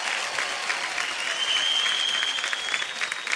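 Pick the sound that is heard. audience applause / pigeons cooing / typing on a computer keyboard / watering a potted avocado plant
audience applause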